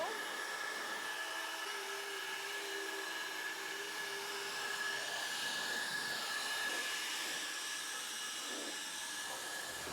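Air blower drying a ceramic-coated car, a loud, steady whooshing roar with a high whine running unbroken and close throughout.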